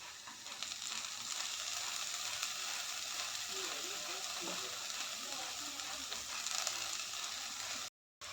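Shallots with crushed garlic and ginger hiss and sizzle steadily in a hot pan for a chicken curry, a constant frying crackle that holds for several seconds before a brief cutoff near the end.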